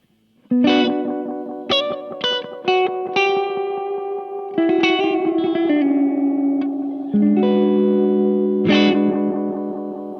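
An electric guitar through a HangmanFX Meteoric Echo Monster delay pedal plays single notes and chords, each one ringing out and smearing into repeating delayed echoes, loud and sustained.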